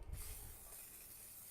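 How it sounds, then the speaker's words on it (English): A steady, close hiss of an aerosol cooking spray can greasing baking paper, held for over a second after a soft initial bump. "Bit of cooking spray."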